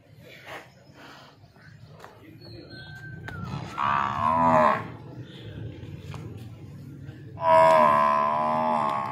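A buffalo and a bull are made to cross at a farm shed. Loud, drawn-out bellowing moos come in two bursts over low rumbling and faint background voices.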